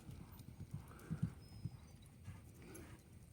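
A horse walks with uneven, soft clip-clopping hooves, a few close thuds over a quiet outdoor background.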